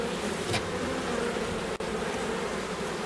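Podkarpacki Buckfast honey bees hum busily around an open hive, a dense continuous buzz close to the ear with one bee passing loudly near the start and no voices.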